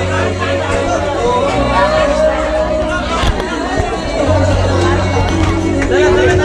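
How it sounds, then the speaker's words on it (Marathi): A dense crowd fills the busy Vighnaharta Ganesh mandal in Koshti Galli, Kadrabad, Jalna, with steady loud babble, overlapping voices and scattered shouts throughout. "मित्रांनो, अतिशय गर्दीचं ठिकाण असलेलं हे मंडळ आहे"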